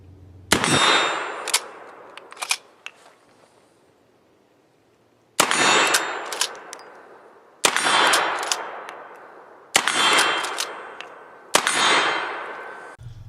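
Antique Henry lever-action rifle in .44 rimfire, five sharp, loud metallic clanks spaced a few seconds apart, each followed by a bright ringing decay, heard close with no talking.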